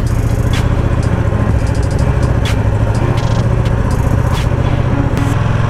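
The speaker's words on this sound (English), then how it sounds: "hop on board my 2020 Panigale V2" A 2020 Ducati Panigale V2 motorcycle engine runs with a steady, loud, close drone that holds an even pitch throughout without revving up or down.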